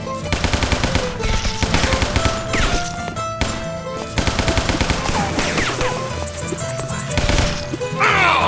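Rapid machine gun fire from the video game Guns, Gore & Cannoli rattles in loud dense bursts, mixed with crashes and thuds and game music over several seconds.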